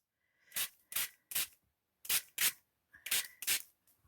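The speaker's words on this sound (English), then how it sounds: "So that was a more concentrated spray." A spray bottle spritzes Melon Mambo pigment onto paper flowers in about eight short, sharp hissing bursts, close up, some fired in quick pairs with brief pauses between, with no talking.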